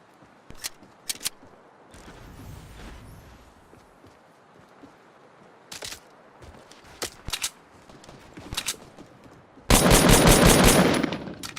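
Scattered single gunshots crack sharply in the video game Fortnite, then a loud, rapid burst of automatic fire rattles near the end.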